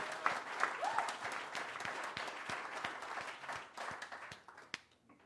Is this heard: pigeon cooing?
no